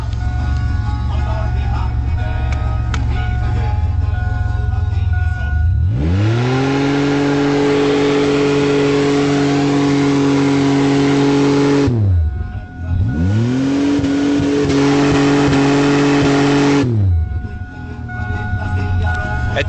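Ford V6 engine revving hard in two long sustained bursts held near the rev limiter, each swelling up and dropping back to a rough idle, loud and close.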